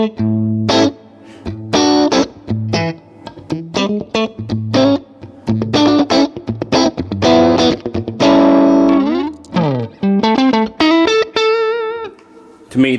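An electric guitar played through a Line 6 Helix preset with a tube screamer into an AC30 amp model rings out in distorted picked phrases and sustained chords, loud and up front.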